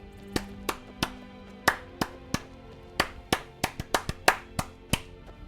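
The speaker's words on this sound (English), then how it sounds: "Clap your hands." Hand claps inside the Skyrim video game, about a dozen sharp, separate slaps at an uneven pace, each one close and clear with nothing else heard in between.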